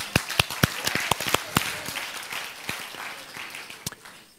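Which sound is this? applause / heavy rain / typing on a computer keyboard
applause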